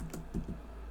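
A handful of quick keystrokes clatter on a computer keyboard, close and fairly quiet, in a short burst with no talking.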